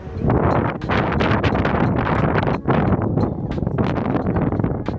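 Strong wind in San Francisco buffets the microphone in loud, continuous gusts with rough rumbling, briefly dipping before surging again.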